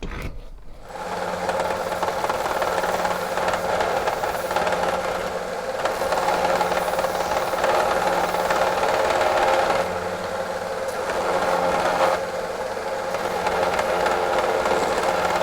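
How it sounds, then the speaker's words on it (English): A small belt sander grinds a kukri knife blade, a loud continuous machine whine with a steady motor hum that holds throughout, dipping briefly in pitch a few times as the metal is pressed and lifted. "I'll start using my little belt sander to finish it off."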